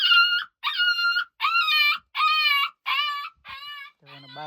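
Shrill, nasal cries from a puppy stuck inside a gap come in seven separate bursts, each about half a second long, loud and close. The last cry drops lower and sounds hoarser.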